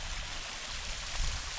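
Water from a stream rushes steadily over a waterfall in Gunnerside Gill, a continuous close broadband roar with no one speaking.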